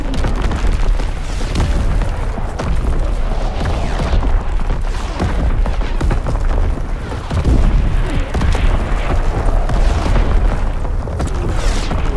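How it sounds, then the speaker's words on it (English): Incoming enemy artillery in the Call of Duty: WWII multiplayer match on the Aachen map pounds nonstop with heavy, rumbling booms and blasts that merge into a loud, dense, continuous barrage. "Incoming enemy artillery!"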